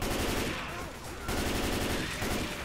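Rapid gunfire from the zombie shooter Left 4 Dead 2 crackles in dense, continuous bursts with a brief dip in the middle, loud and close, amid the chaos of a horde fight.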